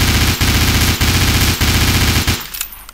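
Rapid automatic gunfire and blasts in a ghost-hunting video game, a dense, loud stream of shots in short bursts that cuts off near the end.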